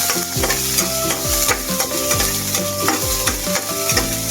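Onion, garlic, ginger and green chili sauté in oil in a wok, a loud close sizzle with steady stirring scrapes, while repeated falling tonal sweeps run rhythmically in the background.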